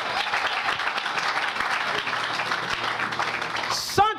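A church congregation applauds and cheers during a sermon, a steady, dense wash of clapping that carries on throughout, with a voice speaking over it and a brief rising electronic tone near the end.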